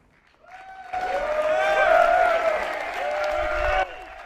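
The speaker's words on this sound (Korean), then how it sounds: "트럼프 대통령이 청중의 박수를 받으며 입장합니다" A crowd applauds and cheers as President Trump enters a Liberation Day tariff event, a loud swelling roar with ringing tonal voices that holds steady and then cuts off abruptly.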